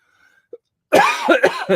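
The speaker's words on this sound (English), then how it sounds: "A little dry cough in my throat tonight." A dry, raspy cough erupts close to the microphone in a few harsh bursts after a moment of near silence.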